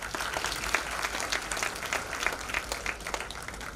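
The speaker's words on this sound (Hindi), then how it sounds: "तो इनके लिए एक जोरदार ताली होनी चाहिए।" An audience claps for ninth-grade student presenters pitching a health and wellness idea on a school Shark Tank style stage. The applause is steady and fairly close, with sharp, scattered individual claps running throughout and no clear speech.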